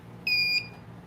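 Handheld metal detector's alarm beeps once, a bright high-pitched electronic tone lasting about a third of a second, loud and close over a quiet background.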